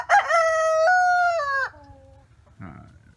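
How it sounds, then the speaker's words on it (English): A homestead rooster crows once, loud and close, in a long drawn-out call that trails off, followed by a brief cluck. "He crows all day, all night."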